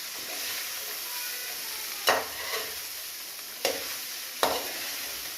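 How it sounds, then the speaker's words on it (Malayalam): Food is stirred and mixed in a pan with a piece of coconut added on top, a soft steady sizzle broken by a few sharp scraping strokes of the spoon, with no talking. "നന്നായിട്ട് മിക്സാക്കി കൊടുക്കണം"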